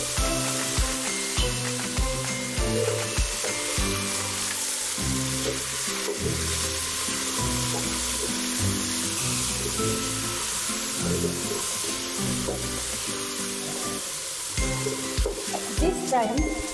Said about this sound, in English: We are going to put in our potatoes.